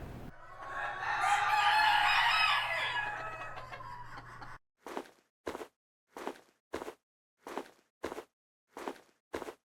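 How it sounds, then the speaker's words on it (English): Chickens cluck and squawk together for several seconds, then stop, and eight evenly spaced footsteps follow in a steady walking rhythm. "We have our chickens and our footsteps."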